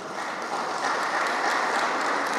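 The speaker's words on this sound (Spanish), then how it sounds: "Y esto es un aplauso." Dense applause from a crowd at an association gathering in El Salvador, a continuous bright patter of many hands that swells slightly midway and stays loud throughout.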